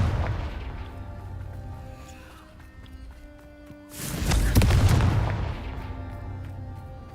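Confringo spell blasts go off in Hogwarts Legacy, a rumbling game-combat scene with a heavy, loud explosive burst midway that decays slowly, set against lower booming background effects.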